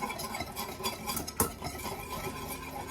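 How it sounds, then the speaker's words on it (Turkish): Batter for a strawberry cake being stirred quickly with a whisk or spoon in a bowl, a continuous close scraping and clinking with one sharper knock midway, no talk. "Beraber karıştıralım hızlı hızlı."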